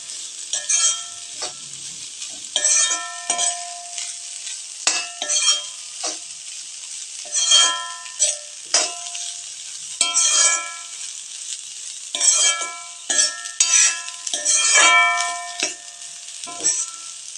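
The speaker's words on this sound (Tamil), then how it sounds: "இப்போ இது எண்ணெயில் 1 நிமிஷம் வதக்கி எடுத்துக்கலாங்க." Broad beans frying and being stirred in hot oil in a pan, a steady sizzle with repeated scraping stirs throughout, close and fairly loud with no talking.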